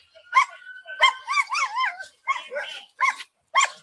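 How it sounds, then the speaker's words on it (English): Drug-sniffing dogs bark, yip and whimper close by in excited bursts, a string of short barks broken by wavering whines, with no other sound behind them. "Talk about drug sniffing dogs."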